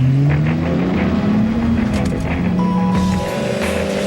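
A car engine roars and revs in a TV advert, loud and sustained with rising and shifting engine tones, blended with music-like layers and no talk over it.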